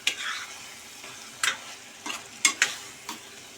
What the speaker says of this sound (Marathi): आपला मालवणी मसाला पण आपण याच्यामध्ये चांगला परतून घेऊया